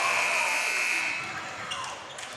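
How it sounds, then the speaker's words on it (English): An end-of-quarter buzzer blares loud and steady for about a second at a boys high school basketball game in a gym, then fades into crowd noise and shoe squeaks. "Charlevoix with it, Gaffney at the buzzer."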